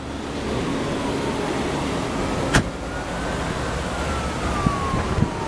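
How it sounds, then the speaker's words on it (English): Power windows on a 2001 Dodge Stratus sedan: a thin electric motor whine glides steadily over faint background hum, broken by one sharp click midway and a few small knocks near the end. "Windows on this side are working."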